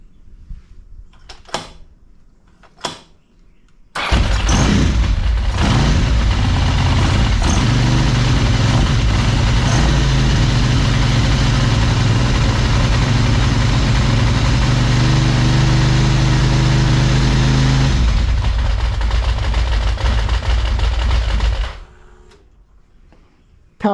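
The engine of a 1992 Ducati 900SS motorcycle starts after a few clicks and settles into a loud, steady idle close by. It runs for about eighteen seconds before cutting off.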